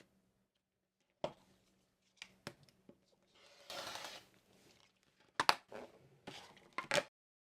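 Quilt binding fabric being cut along a ruler, a handful of quiet scattered crisp snips and rustles with pauses between them, up close in a silent room.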